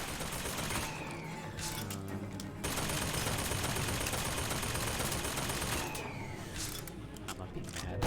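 A video game turret fires in long, sustained bursts, a dense rattling roar that fills most of the moment, pausing briefly before resuming, loud and close.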